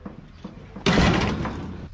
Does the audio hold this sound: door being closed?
yes